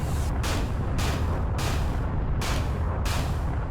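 Weapon fire in the space shooter Everspace during a fight at an outlaw base: loud, steady bursts of booming shots over a dense continuous rumble, arriving in roughly regular volleys with brief gaps between.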